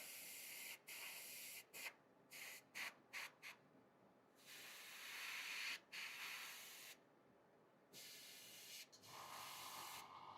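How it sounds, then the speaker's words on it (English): An airbrush spraying paint onto a sculpted Darksiders Death statue model, heard as short hissing bursts followed by longer sustained sprays, close and steady, with no talking. "Now closer you go to your model with the airbrush, more precise the spread of the paint will be"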